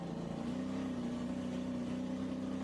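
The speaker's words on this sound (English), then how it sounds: "Listen to the throttle in here." A stock car engine at Sharon Speedway holds a steady, droning high-rev throttle during an SRX race heat, a continuous buzzing roar with a slight rising pitch, heard from onboard.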